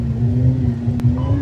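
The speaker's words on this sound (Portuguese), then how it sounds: "Rapaz, essa motinha é potente" A motorbike engine in the video game Battlefield 4 revs with a steady droning hum and a low rumbling tone, loud and close, holding a fairly even pitch.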